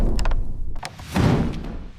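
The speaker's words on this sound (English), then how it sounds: "The cellar door had slammed shut." A wine cellar door slams shut during a heavy rainstorm, landing as a deep wooden thud with a dull rumble after it, fairly close and with no voices.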